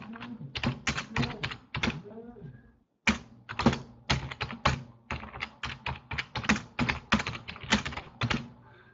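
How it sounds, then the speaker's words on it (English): A message typed on a computer keyboard, close and clear: bursts of rapid key clicks with short pauses between words and a brief silent break near the middle. "Now I'm going to write a message."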